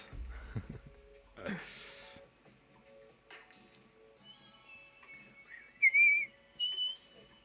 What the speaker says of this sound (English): don't whistle during live streams because that sounds so weird